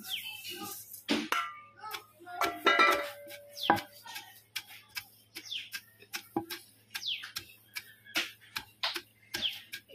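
Flax seeds are pounded in a stone mortar while making a spice powder, giving sharp, uneven thuds and clacks in a loose rhythm, with faint chirps in the background.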